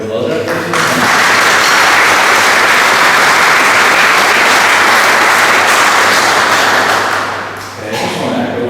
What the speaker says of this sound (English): So could we just give the Alan a round of applause there?